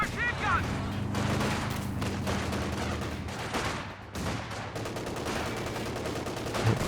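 MG42 machine gun fire in a Company of Heroes 2 battle, a dense, continuous racket of bursts and other gunfire layered over a busy wartime soundscape, loud and sustained throughout.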